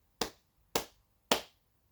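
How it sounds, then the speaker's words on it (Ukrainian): Three crisp, evenly spaced hand claps, close and isolated against near silence, each with a short decaying tail. "Плескаю у долоні."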